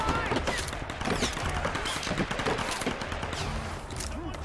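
Sustained gunfire in the video game Tomb Raider, loud and busy throughout, with a voice talking over the shots.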